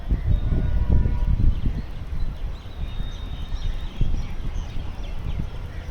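Dense chattering and chirping of many sparrows roosting in a tree in the evening, overlapping calls with a low rumble of background noise.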